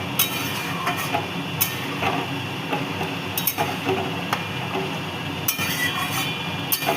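A utensil stirs katla fish and ridge gourd curry in a pan, giving sharp scattered clinks and scraping over a steady sizzle, close and moderately loud.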